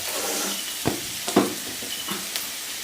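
Cabbage and other vegetables sizzle in a pan while a spoon stirs them, giving a steady frying hiss broken by a few distinct scraping knocks of the stirring.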